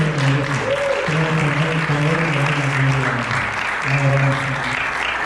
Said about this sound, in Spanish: Vamos a dar un aplauso a Él